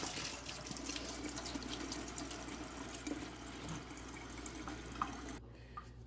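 Water pouring out of an upturned plastic lettuce container into a kitchen sink, a steady continuous splashing rush that ends abruptly near the close.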